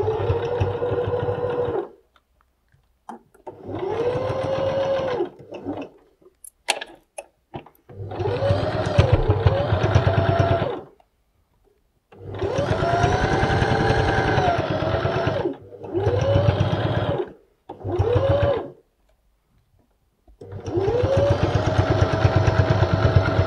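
A sewing machine stitches a fabric bunny pouch in several steady, buzzing runs of a few seconds each, stopping briefly between bursts as the curve is worked, loud and close.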